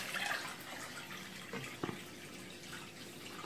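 Aurotus fish are tipped from a container into aquarium water, giving a steady close splashing and pouring wash with a few brief sloshes and drips, and no talk.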